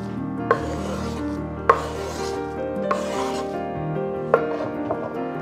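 A knife cuts green apple into small pieces on a board, with a few distinct chopping knocks spaced irregularly over soft background music, close and clear.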